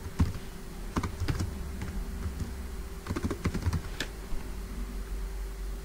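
Keys clatter on a computer keyboard as a short project name is typed, two quick bursts of tapping separated by a pause, close and clear over a faint steady hum.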